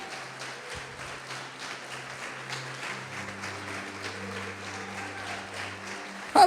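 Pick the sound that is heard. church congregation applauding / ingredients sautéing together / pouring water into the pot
church congregation applauding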